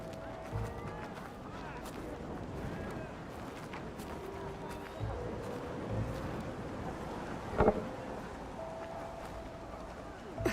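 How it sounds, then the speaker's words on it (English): Strong wind sweeps through a Horizon Forbidden West landscape, a steady, fairly faint rushing whoosh that carries on throughout, with a few soft thuds and scuffs from the game's action. "This wind's blowing strong."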